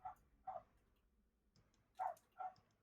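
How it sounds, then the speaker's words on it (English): A dog barks in the background four times, in two pairs of sharp, fairly close barks separated by a short pause, with no talking over them. "Please excuse the dog in my background."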